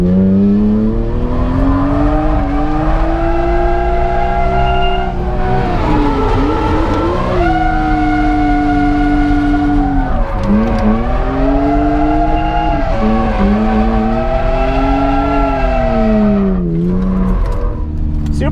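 BMW M3 E46 drifting on a track, its engine revving loud and steady with rising and falling pitch while the tires squeal continuously through the slide, close and sustained for the whole stretch.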